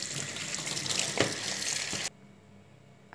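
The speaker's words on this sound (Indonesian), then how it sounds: "kita cuci dulu daunnya" Water from a tap runs steadily while turmeric leaves are washed for cooking, a close, hissing splash that stops abruptly about two-thirds of the way through, leaving quiet room tone.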